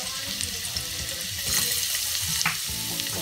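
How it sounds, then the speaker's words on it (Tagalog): Garlic and onion sauté in hot oil for a vegetable coconut stew, giving a quiet, close crackle and sizzle with a few brighter spits and clinks over a soft background wash. "gigisa na natin yung ating sibuyas at saka bawang"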